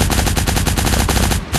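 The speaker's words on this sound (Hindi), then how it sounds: "क्योंकि सामने और भी बंदे थे जो आपस में फायर कर रहा था" Rapid automatic gunfire in the shooter game Cyber Hunter Lite: a loud, close, continuous burst of evenly spaced shots that cuts off briefly just before the end.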